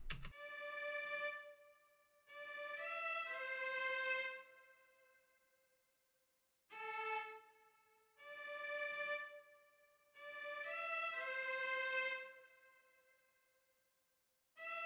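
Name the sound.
synthesized strings section in a beat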